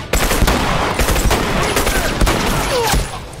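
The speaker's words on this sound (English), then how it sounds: "Three shotgun shells and you still couldn't kill me." Rapid shotgun blasts in a video game crack out in a quick, dense series of loud, close shots, spaced unevenly across a few seconds with no talking.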